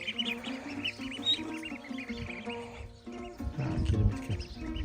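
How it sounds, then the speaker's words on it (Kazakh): Chicks chirping in a forested village near Omsk, continuous high peeping over a busy outdoor background with low rumbling noise. "Мына жерде міне балапандар."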